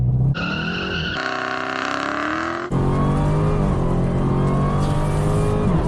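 A Dodge Demon launches hard from a standstill, its engine screaming upward through the revs with a squeal of spinning tyres, then a gear change and continued loud acceleration, very close.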